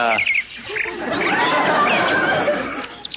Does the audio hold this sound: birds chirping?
yes